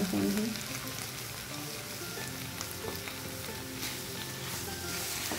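About 250 grams of khoya fries in a pan of carrot halwa with a steady, close sizzle and some soft stirring scrapes, continuous throughout, with no talk.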